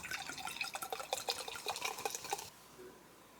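A drink is poured into a glass for about two and a half seconds, a close, splashy liquid stream with bubbling and dripping, then it stops and only quiet room tone remains.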